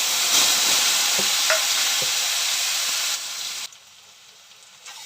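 Onion paste sizzles and spits in hot oil with a spoonful of sugar, a steady bright frying hiss with a few stirring scrapes, loud and close, then dropping off sharply near the end.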